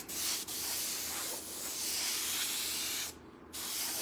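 An airbrush hisses paint onto a hoodie in a steady, close, breathy spray, breaking off briefly near the end before starting again.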